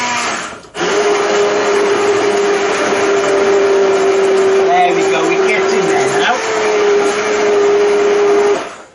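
A blender whirs steadily and loudly, blending pea soup with fresh mint, its motor holding a constant drone for most of the stretch with a brief change in pitch near the end; it starts abruptly after a short pause.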